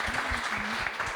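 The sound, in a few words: audience applause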